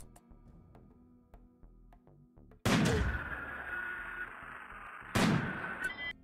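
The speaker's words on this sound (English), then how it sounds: "the mortar shells in this game do take a while to travel" Mortar shells in a modded RimWorld-style game, 500% threat: two heavy booming blasts a few seconds apart, each trailing off in a long, noisy rumble, following quieter ticking and clicks.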